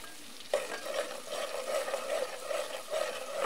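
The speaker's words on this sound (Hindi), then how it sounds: "हम नरम कर रहे हैं प्याज को।" Chopped onions with cumin seeds frying in a pan and stirred, a continuous close sizzle with rhythmic scraping strokes of the spoon repeating every half second or so, no voices.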